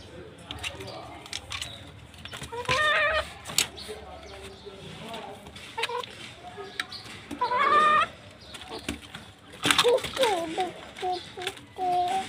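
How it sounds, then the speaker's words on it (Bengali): Chickens kept on a home balcony cluck and call in short bursts, fairly close, while a child and an adult talk over them intermittently. "বারান্দায় আমার মুরগি ও পাখি পালন"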